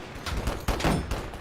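A quick cluster of rifle shots in the World War One video game Holdfast: Frontlines, several loud cracks within a second and a half over battle noise.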